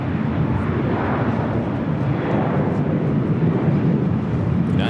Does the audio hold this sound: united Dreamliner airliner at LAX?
yes